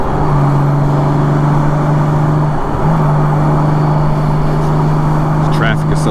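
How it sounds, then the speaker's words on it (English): A motorcycle pulling a trailer rides through thick morning traffic, its engine holding a loud, steady drone close by while surrounding road noise hums underneath. "Traffic is so thick this morning."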